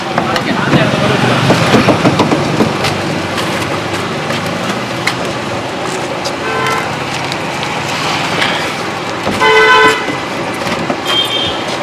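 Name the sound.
vehicle approaching and honking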